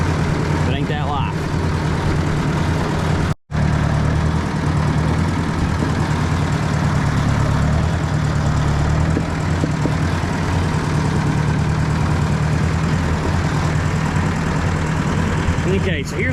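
Steady low rumble of a Ford 600/800 series tractor engine idling nearby, loud and continuous with a brief cutout early on.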